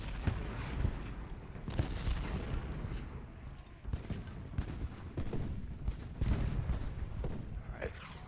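Artillery booms rumble from the Gettysburg battlefield of the Civil War strategy game Ultimate General Gettysburg, several heavy cannon shots and dull thuds rolling in an irregular barrage, fairly distant and layered over one another.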